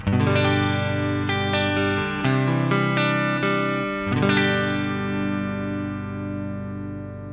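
Fender electric guitar plugged straight into an amp with a short four-foot cable, strummed chords ringing out with sustained harmonics, several chord changes in the first four seconds, then one long chord decaying to the end.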